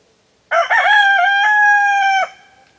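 A backyard rooster lets out a single loud, close crow, rising then holding a long drawn-out note for nearly two seconds before cutting off, with quiet before and after.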